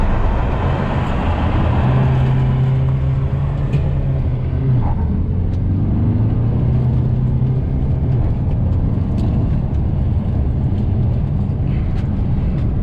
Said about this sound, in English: first revving the motor.